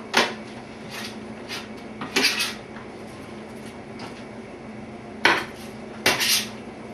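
Hot caramel popcorn, still coated in sugar and oil, is flipped around on a baking tray, giving a few short clattering scrapes and rattles in separate bursts against a quiet background.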